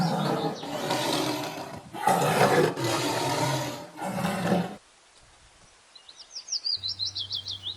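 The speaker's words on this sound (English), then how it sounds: "T for tiger." A tiger roars in several deep, loud, rumbling bursts close by, then goes quiet, leaving faint birdsong chirping in the background.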